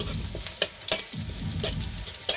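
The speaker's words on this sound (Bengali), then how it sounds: "শুকনা লঙ্কা তেজপাতা দিয়ে একটু লাল লাল করে ভাজবো" Dried red chillies and bay leaves fry in hot oil, a steady close sizzle with occasional sharp crackles and stirring clicks, no voices.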